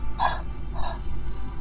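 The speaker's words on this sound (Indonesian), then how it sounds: "Napasnya terengah-engah." Two sharp, breathy gasps, close and loud, spaced under a second apart, used as a sound effect in a spoken Indonesian horror story, over a low steady hum.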